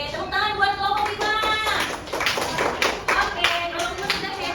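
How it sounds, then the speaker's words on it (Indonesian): A primary school class claps for a group of pupils, a lively burst of many hands clapping steadily with voices mixed into the applause. "Oke, tepuk tangan buat kelompok 5."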